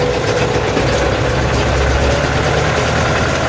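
A Scout 404 tractor engine idles steadily at around a thousand revs, a close, continuous low rumble with a dense, even texture and no voices.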